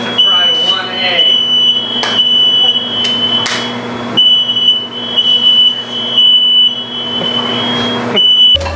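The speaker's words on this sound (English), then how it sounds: "the fire alarm just went off" A smoke alarm shrieks loudly and continuously with a piercing steady tone, set off while an egg fries in a home kitchen, its beeping repeating in pulses as a person talks over it.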